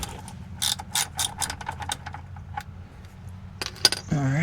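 A ratchet turns a 13 mm socket under a 2018 RAM 2500 6.4 Hemi during an oil change, giving close, crisp clicking bursts in quick runs, followed by a metallic clink and a brief voice near the end.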